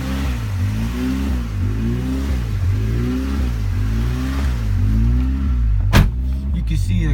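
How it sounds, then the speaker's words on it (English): A 1994 Acura Integra LS engine idles cold, its revs rhythmically rising and falling in repeated waves, heard close up from inside the car, with a brief sharp click near the end. "it goes up and down on RPM because basically when it does that, because the car is running cold"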